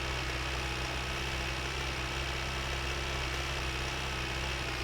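Tractor engine in the My Winter Car video game, a steady low mechanical drone running evenly throughout with no talk over it.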